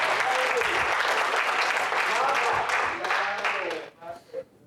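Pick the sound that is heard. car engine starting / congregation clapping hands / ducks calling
congregation clapping hands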